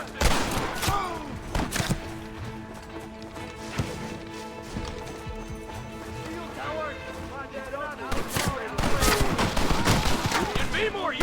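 Mounted gun fire in the Western game Red Dead Redemption, bursts of shots mixed with horse hooves, thuds and shouting voices amid a loud, busy battle scene.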